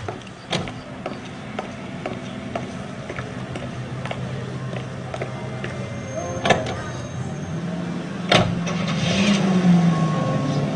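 A car driven in the video game L.A. Noire, a steady low engine drone with occasional mechanical knocks and clunks as it rolls along, growing slightly louder toward the end.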